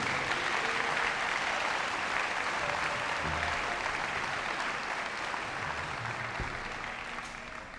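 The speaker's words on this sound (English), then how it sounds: "can we please give another applause for the middle school band and Mr. Enns" An audience at a school band concert gives the middle school band sustained, even applause, a dense wash of clapping that barely fades over nearly eight seconds.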